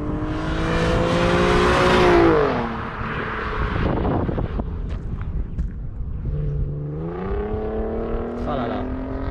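A 250 hp Audi TT revs hard on a race circuit, its engine note climbing and falling through gear changes. A voice speaks briefly over it.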